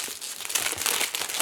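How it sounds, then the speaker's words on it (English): Crinkly plastic wrap tearing and crumpling as it is pulled off a Dragonlance D&D deluxe box set, with quick bursts of rustling up close and no talking. "we'll break off the plastic wrap"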